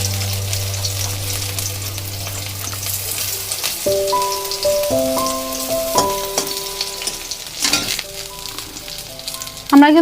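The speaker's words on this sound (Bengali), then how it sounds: "এবার বেগুনগুলো ভেজে নেব।" Brinjal pieces frying in hot oil, a steady close sizzle with occasional louder spatters and bursts.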